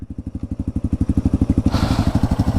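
Dual-sport motorcycle engine, from a Kawasaki KLR650 and Yamaha TW200 comparison, running close by with a rapid, evenly pulsing single-cylinder thump that slows slightly, then gains a rougher, noisier edge partway through.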